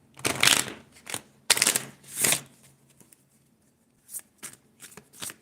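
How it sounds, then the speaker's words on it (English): A deck of playing cards is shuffled in several brisk riffling bursts, close and fairly loud, with two longer shuffles early and a string of quicker, softer flicks and taps afterward. "Let me give another shuffle because that felt distorted."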